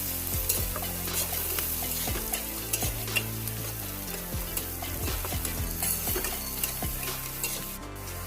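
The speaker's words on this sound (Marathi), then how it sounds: "आता लालसर असा कांदा आपण भाजून घेणार आहोत।" Chopped onion frying and being stirred in a pan with salt added, a steady close sizzle broken by frequent scraping knocks of the spoon against the pan, no talking.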